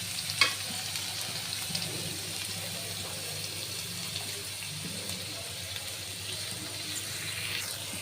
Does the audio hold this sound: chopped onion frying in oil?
yes